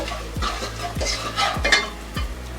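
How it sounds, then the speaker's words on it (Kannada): A spoon stirs chilli powder into a pot of dal sambar: four steady scraping strokes against the pot, each with a low knock, over a soft sizzle close by. "ಒಂದು ಅರ್ಧ ಟೇಬಲ್ ಸ್ಪೂನು ಅಚ್ಕಾರದ ಪುಡಿ, ಇಷ್ಟು ಹಾಕಿ ಚೆನ್ನಾಗಿ ಮಿಕ್ಸ್ ಮಾಡ್ಕೋಬೇಕು"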